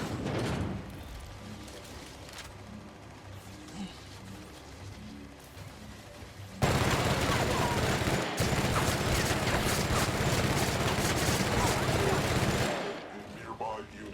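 Sustained automatic gunfire from combat turrets in The Outer Worlds, a dense loud chatter of rapid shots that swells sharply midway and runs for several seconds before cutting off, with quieter battle noise and voices around it.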